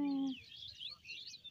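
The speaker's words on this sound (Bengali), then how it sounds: "ঝাউ গাছের চারদিকে হচ্ছে পাখির কিচিরমিচির ডাক" Birds chirp and tweet in a rapid, high, fluttering chorus in a casuarina grove at Kuakata, heard close and clear after a brief voice at the start.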